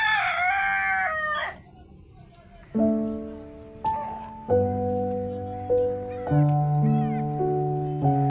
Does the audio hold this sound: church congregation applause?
no